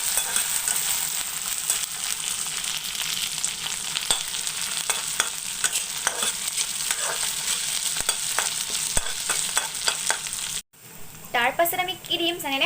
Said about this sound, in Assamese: এইখিনি ধুনীয়াকৈ আদা নহৰু গোন্ধ যোৱালৈকে ধুনীয়াকৈ ভাজি ল'ব